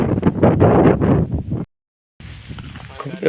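A person talks, then after a short silence wind buffets the microphone with a steady, rough rushing noise, outdoors at a farm field while carrying a bundle of sorghum stalks.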